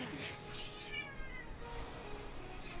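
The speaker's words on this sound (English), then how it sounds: "I don't know if anyone can hear that cat." A cat meows in the room, its cries rising briefly over steady background noise and talk from a Final Fantasy XIII game session.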